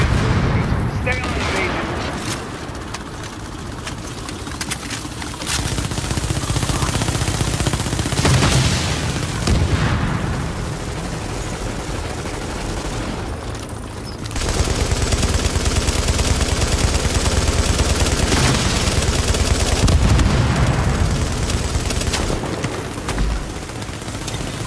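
Gunfire in The Division shooter video game, dense bursts and sustained automatic fire with booms, loud and continuous, with a player talking over it.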